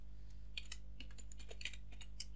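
Code is typed on a computer keyboard in irregular bursts of light, close key clicks over a low steady hum, with no voices.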